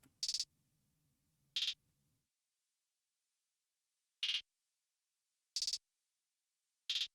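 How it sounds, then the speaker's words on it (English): A third programmed hi-hat layer adding rolls to a trap-style drum pattern, with bright, short hits spaced irregularly and a low hum under the first two seconds, otherwise alone and clean. "And then I added one more hi-hat, which pretty much added more rolls"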